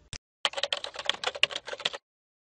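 Typing on a computer keyboard: a brief tap, a pause, then a fast, steady run of close, crisp keystrokes lasting about a second and a half before stopping.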